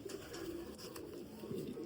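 A golden pigeon coos close by in a soft, repeated throaty rhythm, with a few low pulsing calls across a couple of seconds.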